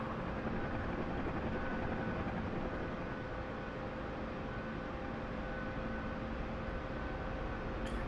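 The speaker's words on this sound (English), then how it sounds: "So we're gonna try to land this helicopter." A UH-1H Huey helicopter in the DCS flight simulator drones steadily, a constant dense rotor and engine roar heard from inside, even and unbroken throughout with no talk.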